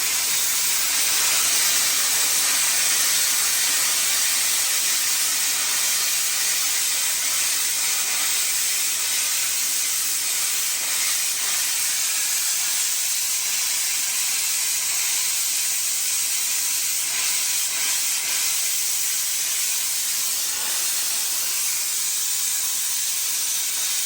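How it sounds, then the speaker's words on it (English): A Chief Steamer 155 240v steam cleaner releases a steady, loud, broadband hiss of steam that runs unbroken and close for the whole span with no voices. "if you just turn the steam, let's say this goes this much, we'll back it off like a quarter turn"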